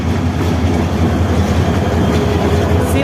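A passenger train bound for Sylhet, in Bangladesh, rolls past nearby with a steady loud rumble and clickety-clack of wheels on rails, and no voices.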